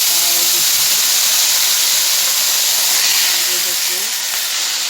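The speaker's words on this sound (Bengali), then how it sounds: "গোটা কয়েকটা জিরা দিয়ে দিচ্ছি এই যে আলু কেটে রেখেছি" Cumin seeds and cut potatoes hit hot oil in a pan, giving a loud, constant close-up sizzle and hiss, with a faint voice talking underneath.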